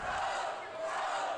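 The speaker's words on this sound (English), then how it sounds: "And Remy Marcel, listen to the crowd." A crowd at a tag-team wrestling match roars steadily in a dense, sustained wall of cheering and yelling.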